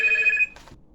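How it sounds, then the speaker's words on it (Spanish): A telephone rings loud and close in a short electronic burst, then cuts off abruptly, followed by a brief faint rustle. "Voy a apagar el teléfono porque no quiero interrupciones"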